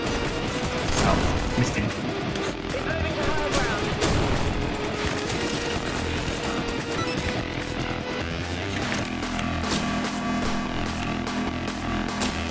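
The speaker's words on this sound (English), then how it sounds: "Of course you're hearing explosions." Explosions and rapid gunfire from a video game battle fill the scene continuously, with dense bursts and booms layered throughout while a player speaks briefly over the din.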